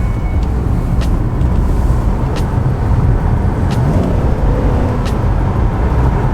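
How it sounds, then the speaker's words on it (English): A high-mileage Cadillac XTS with over 200,000 miles idles with a steady, low engine rumble heard from inside the car through an open window, joined by faint outdoor traffic noise and a few brief higher ticks. "let's get a good listen for the engine"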